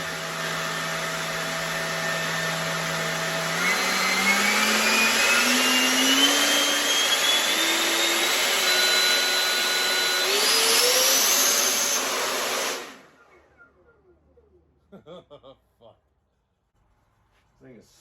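The electric ducted fan of an MD600N RC helicopter spins at high RPM with a loud, piercing whine that climbs in pitch in steps, then cuts off abruptly, followed by a few quiet clicks and handling sounds.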